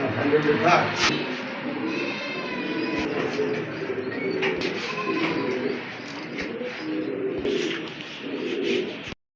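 Pigeons from a seller's collection of local and foreign breeds coo steadily throughout, with someone talking over them and scattered sharp clicks and knocks.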